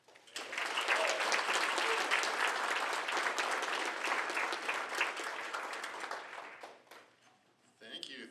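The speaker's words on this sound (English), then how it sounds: "please give it up to Dan" A crowd at a community climate meeting in St. Paul applauds a speaker, Dan, who works for a geothermal energy company. The clapping is loud and sustained for about seven seconds, then dies down.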